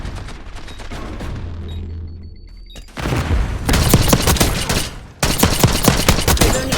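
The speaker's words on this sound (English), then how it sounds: "Concussion grenade!" Concussion grenade blasts in a video game, a muffled thud near the three-second mark that opens into a dense, loud run of rapid explosive bursts and gunfire-like crackle, briefly cut off, then resuming just as heavily.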